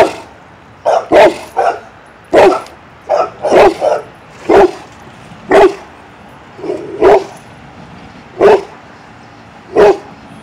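A small dog barks repeatedly outdoors in the morning, about a dozen sharp, loud barks in an uneven rhythm, close to the listener with short pauses between them and no talking.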